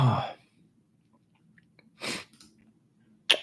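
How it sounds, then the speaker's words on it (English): A single sharp human sneeze bursts out at the start, close and loud, followed by quiet room tone, a breathy rustle and a brief click. "this is the fifth or sixth sneeze recorded live"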